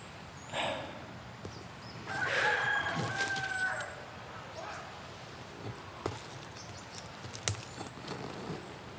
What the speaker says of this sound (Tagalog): Mga manok sa bundok